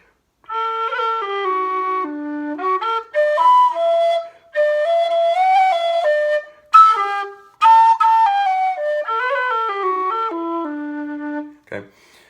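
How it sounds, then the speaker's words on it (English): A Susato Kildare low D tin whistle plays a melody of long, full notes, loud and close, with short pauses between phrases. "Okay, nice big sound, loud whistle."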